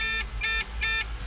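A Kubota excavator's hydraulic quick coupler warning sounds in three evenly spaced electronic beeps, each short and shrill, over a low engine rumble.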